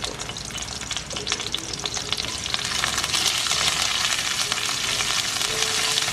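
Chana dal, urad dal, cumin, a broken red chilli and curry leaves fry in hot oil, giving a dense, loud, continuous sizzle with scattered crackles and pops that grows slightly fuller toward the end.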